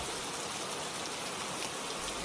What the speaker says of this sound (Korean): 비가 내립니다.